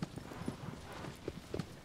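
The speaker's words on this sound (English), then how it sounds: "My beautiful horse." Horse hooves clip-clop in the video game Shadow of the Colossus Remastered, a quick, quiet run of galloping hoofbeats over a brief stretch.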